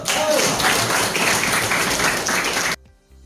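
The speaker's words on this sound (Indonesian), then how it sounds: "Tepuk tangan dulu." Group applause in a teachers' coaching session, a steady broadband wash of clapping for nearly three seconds that cuts off abruptly into near silence.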